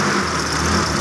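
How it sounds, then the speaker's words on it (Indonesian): A stock 1982 Suzuki Jimny engine runs at a steady idle, a close, continuous and slightly noisy mechanical hum with no pauses. "Suara mesinnya agak aneh ya, padahal di bagian dari mesinnya nggak ada yang dirubah, ini masih standar"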